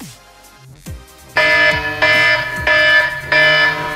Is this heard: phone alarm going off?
yes